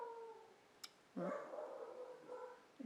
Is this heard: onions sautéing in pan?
no